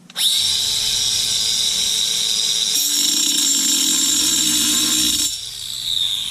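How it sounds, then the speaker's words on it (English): Loud, steady high-speed power saw grinding through a cast iron drain pipe during a plumbing repair, a continuous whine lasting several seconds with a shift in pitch as the blade bites, then easing off near the end. "Let it rip high speed, then touch and start cutting."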